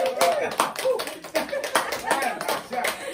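A church congregation at a live-streamed Indonesian worship service claps for two winners, with loose bursts of hand claps and tapping mixed with voices, fairly close and uneven in rhythm.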